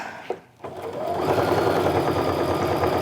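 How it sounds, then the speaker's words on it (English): Sewing machine running steadily as it stitches a pleated fabric wristlet, starting after a brief pause and holding a loud, continuous whirring hum close up. "Go ahead and stitch to my corner, stop about a 1/4 inch away, turn the work."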